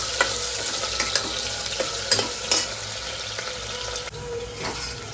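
Potatoes fry and are stirred in hot oil in a home kitchen pan, a steady close sizzle with scattered scrapes and clicks from the stirring spoon, no voices.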